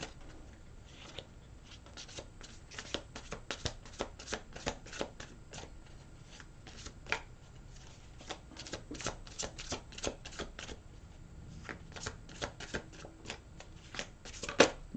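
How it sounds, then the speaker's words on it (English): A new, slippery tarot card deck is shuffled repeatedly, its cards riffling in quick close crisp bursts with small pauses, alone and without talk. "So I'm going to shuffle them a few times. It's a new deck,"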